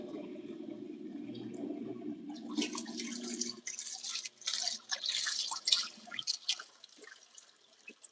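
Water in an LG ThinQ washing machine during a rinse cycle: a low hum gives way to splashing, dripping and trickling water that comes in uneven bursts, no speech.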